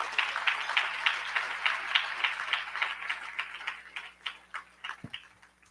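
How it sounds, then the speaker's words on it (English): A business awards ceremony audience applauds at the CanadianSME National Business Awards, a steady patter of hand claps that thins and fades toward the end, ending with a low thump. "So once again, a round of applause for Rocco Rossi."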